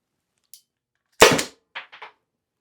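A less-lethal launcher fires a single sharp, loud shot, followed by a few quieter clicks and rattles of handling, with silence around it.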